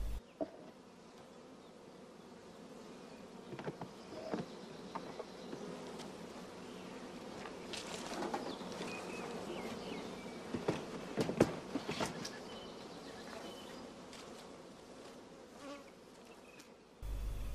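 Honey bees buzz steadily around a hive during a German bee-breeding inspection, a continuous layered drone of many insects with sharper passes of individual bees flying close, no talk.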